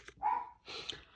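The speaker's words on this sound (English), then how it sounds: "He's barking at my husband, who's outside" An indoor dog lets out two short barks in quick succession, close by and fairly clear, with no one talking.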